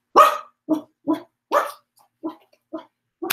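A dog barks several times in short, sharp bursts close by, with brief pauses between each bark and no other sounds.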